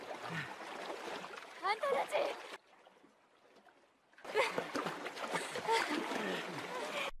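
Water splashes and sloshes around a makeshift raft of branches as it crosses a fairly deep river, the splashing steady and close apart from a quieter gap midway, with a voice speaking over it.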